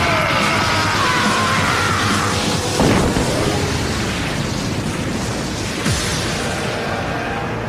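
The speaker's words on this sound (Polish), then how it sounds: "Ale wybuch. Co za siła!" A loud blast erupts in a noisy, chaotic Bakugan cartoon scene, with a second impact a few seconds later and shouting amid the din.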